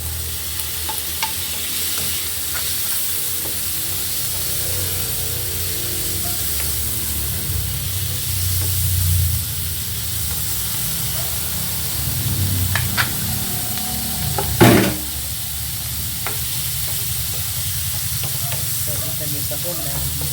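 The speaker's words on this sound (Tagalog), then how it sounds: "nigisa ko na rin itong button mushroom." Button mushrooms sauté in a hot pan, giving a steady sizzle with scraping and stirring throughout and one sharp clatter near the end. Someone speaks briefly.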